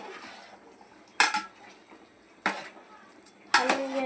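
Spoon stirring food in a metal pot, three sharp scraping clanks spaced about a second apart over low background hiss, close and moderately loud.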